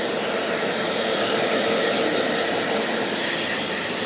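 A pet blower drying a cat roars with a steady, loud, unbroken airflow hiss that holds at the same level for several seconds, with no voices over it.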